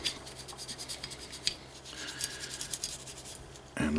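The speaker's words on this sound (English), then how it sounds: "we just pretty much have at it with the brush" A brush scrubs carbon and factory grease off a Beretta APX pistol with steady, close, soft bristly rubbing strokes. A louder knock lands near the end.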